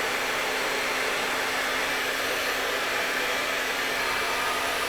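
A hair dryer blows continuously at close range while hair is lifted and brushed straight, giving a steady, loud airy whoosh with a constant motor hum and no talking.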